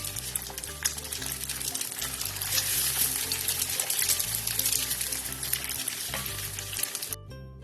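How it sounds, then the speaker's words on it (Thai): Loud continuous sizzling and crackling of food frying in a hot pan, with scraping stir strokes and a low rhythmic thumping in the background. "ว่าจะทำผัดไข่เนื้อค่ะ"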